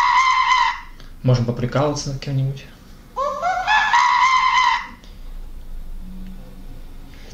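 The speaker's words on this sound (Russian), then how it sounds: "Звук мартышки" A monkey sound effect plays from the phone mounted on a homemade camera robot, shrill chattering and screeching bursts close by, with someone speaking briefly between the calls.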